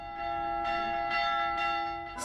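Bells of a community-built Catholic church chime for Sunday Mass, a sustained ringing tone with several distinct strikes in a steady rhythm, heard clearly on their own.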